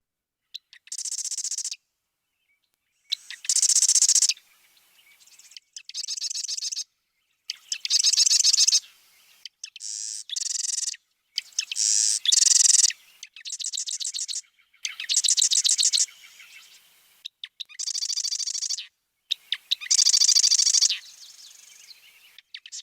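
Birds in a marsh trade quick songs in call-and-response, bursts of bright chirps and trills alternating with short silent gaps, loud and close over about twenty seconds.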